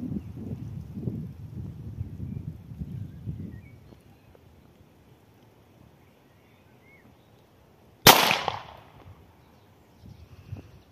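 An Ekol Alp 2 9mm pistol fires a single shot: one sharp, loud crack with a short ringing decay that breaks a quiet stretch, followed by faint background noise.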